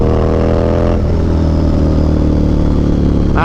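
A motorcycle engine revs hard as the bike is ridden, loud and close, with a dense steady roar that shifts pitch about a second in and stays strong throughout.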